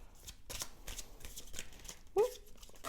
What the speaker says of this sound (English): I take it and I just shuffle that